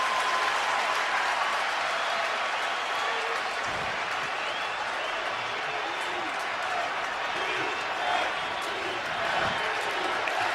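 Dense stadium crowd roar fills a 2007 NFL game between the Chargers and Packers, a steady loud wash of many voices with scattered shouts and no clear pauses.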